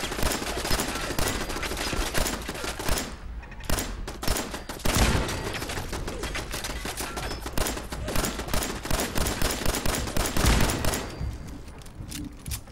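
Dense gunfire against turrets in the Fallout 4 PC video game, a nearly continuous rapid volley of loud shots and impacts with brief gaps, lasting over twelve seconds.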